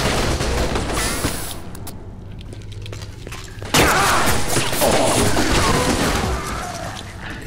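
Rapid bursts of video game gunfire and impacts from the horror game UnderHell crash through a dense, noisy mix, with a sharper volley partway through that stays loud to the end.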